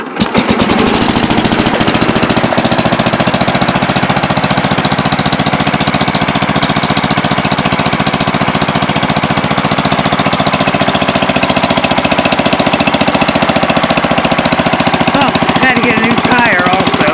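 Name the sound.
Allis Chalmers Big Ten garden tractor Briggs engine running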